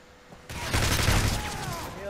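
Bursts of automatic gunfire from the video game Modern Warfare 3 rattle loudly after a quiet half second and run to the end, with a player's voice mixed in.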